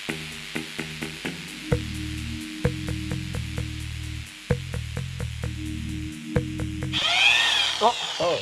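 A power drill bores into a broken bolt on an Audi A3, its motor whirring in repeated short and long bursts with brief pauses. It ends in a rising, grinding whine, heard close up.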